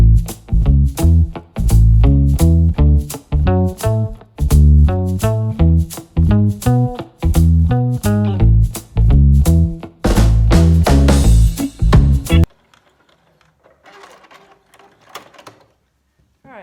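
A sewing machine runs in rapid bursts while stitching a seam on a fabric face mask, loud and close. Short stops and restarts break up the stitching before it falls to near silence at the end.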